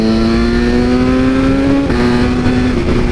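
BMW S1000RR with a remapped ECU under hard acceleration, a loud, steady high-revving engine drone rising in pitch, with a quick gear shift midway and wind roar.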